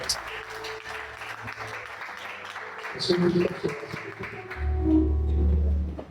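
A church congregation applauds and cheers, with scattered clapping building into a louder sustained round near the end, mixed with voices and talk.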